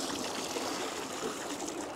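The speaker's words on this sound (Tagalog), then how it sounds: "higyan ko ng konti tubig." A little water is poured over freshly prepared salted split fish set out for drying, a soft continuous trickle and splash, fairly faint and steady throughout.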